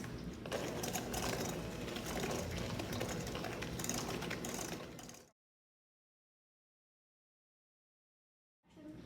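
An electric mixer beats cookie dough made with an egg, peppermint extract and vanilla extract. It gives a steady, whirring mechanical drone for about five seconds, then cuts to silence and briefly starts up again at the end.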